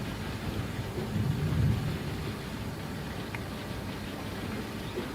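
Thunder rumbles low and steady during a storm in the Gold Rush video game, swelling briefly to a louder roll before settling into a constant wash of rain-like noise.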